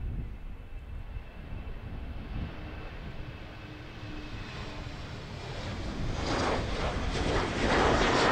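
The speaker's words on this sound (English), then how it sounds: "We have a Eastern Airways Embraer E190 heading from Manchester." Eastern Airways Embraer E190 jet at Amsterdam Airport, a distant engine roar that builds gradually and grows louder toward the end.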